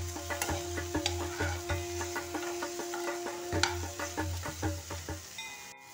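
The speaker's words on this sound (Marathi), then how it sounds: "तिला 5 मिनिट अशीच वाफत ठेवायची" Okra being stirred and steamed in a pan for a fasting-style bhaji, giving a steady soft sizzle with repeated light scrapes and taps of a spatula against the pan, close and continuous with no talking.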